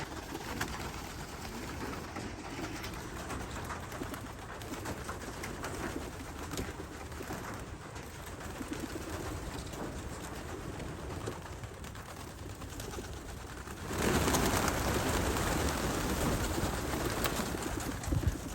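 Racing pigeons coo steadily in a loft at feeding time while one bird returns from a 350-mile race, the low murmuring continuous throughout and swelling louder with a burst of fluttering near the end.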